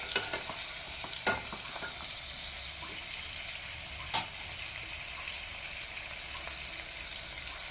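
Onions sauté in a pan for mutton biryani with a steady soft sizzle, broken by occasional sharp clinks of stirring.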